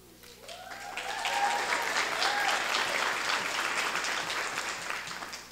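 An audience at a town council inauguration ceremony applauds the newly elected councilors. The clapping is sustained and fairly even, swelling after a quieter start and staying steady to the end.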